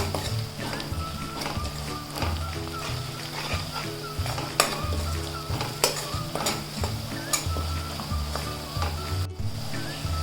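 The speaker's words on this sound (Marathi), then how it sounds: "छान परतून घेते" Spices, chilli masala and salt sizzle in hot oil while a spatula repeatedly scrapes the pan, cooking for a tender jackfruit vegetable dish; the frying is steady and close, with louder stirring strokes.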